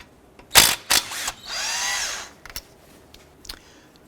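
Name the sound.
power tool removing brake caliper bolts with 13mm socket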